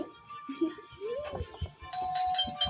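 A soft electronic doorbell chime in a video game rings a few times amid clicks and light background sounds, fairly quiet and close.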